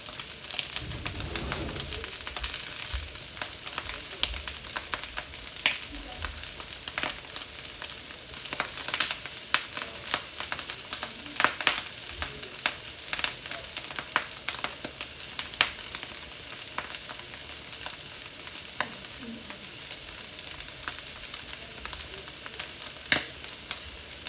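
Leftover rice stir-frying in a pan gives a steady close sizzle and crackle for the whole stretch, with occasional sharper pops and scrapes and faint bird cooing somewhere in the background.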